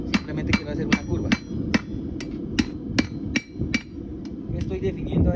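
A steel rod being hammered into a horseshoe curve, about a dozen sharp ringing metal strikes in an uneven rhythm, loud and close over a low workshop rumble.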